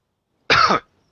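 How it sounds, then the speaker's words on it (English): A single short cough, close and sharp, breaks an otherwise silent moment. "Sorry, I'll mute myself. I'm coughing."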